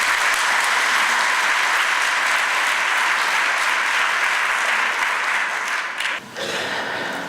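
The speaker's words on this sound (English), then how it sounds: "if everyone could give a round of applause to June." Audience applause welcoming a guest speaker, a sustained, dense round of clapping that carries steadily and starts to thin out near the end.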